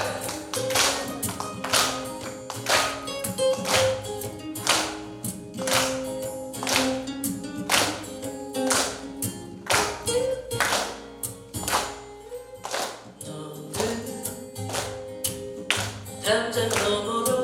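A crowd at a Catholic book concert claps steadily in rhythm along with loud music, the sharp beats repeating evenly throughout.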